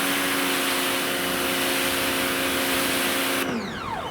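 A pressure washer or hose runs loud and steady while foam is rinsed off a car windscreen during a foam cannon test, its constant hiss and drone holding for over three seconds before cutting off abruptly with a falling whine.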